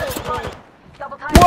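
Gunfire rings out in the battle royale video game Apex Legends, a loud burst of shots at the end after a player talks and a quieter lull.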